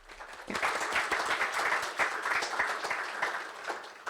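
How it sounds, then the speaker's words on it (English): An audience at an architecture awards presentation gives a full round of applause, dense steady clapping rising quickly and holding loud for several seconds. "can we please give them a round of applause?"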